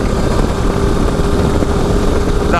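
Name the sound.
2025 Low Rider ST motorcycle 2-1 exhaust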